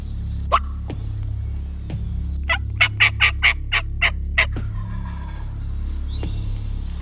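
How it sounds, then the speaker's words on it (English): A wild turkey gobbles in spring woods, a rapid rattling run of about eight notes at mid-distance, with a couple of sharp calls before and after over a low steady background rumble. "I can hear the rattle in his gobble"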